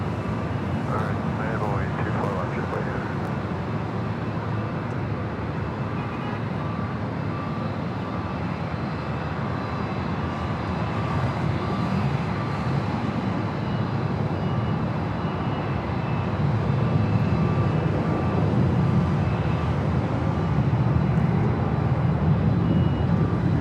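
A British Airways Boeing 777 jet airliner rumbles at LAX airport, a steady broadband engine roar that swells slightly toward the end, with a person talking over it.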